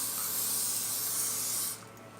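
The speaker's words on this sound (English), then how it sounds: "I always prefer using ghee, so I have used a spray of ghee on this" Ghee sprayed from a can onto pesarattu, a mung bean crepe on a hot pan, giving a steady close hiss for nearly two seconds that then stops abruptly, with faint background after.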